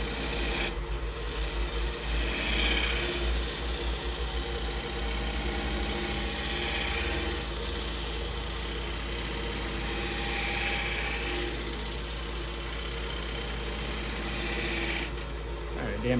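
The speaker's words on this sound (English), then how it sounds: "I'm rolling that gouge and raising it and lowering it." A bowl gouge rolling beads on a wooden bowl spinning on a wood lathe makes a steady, continuous scraping hiss, rising and easing slightly as the tool is rolled, raised and lowered, over a constant motor hum.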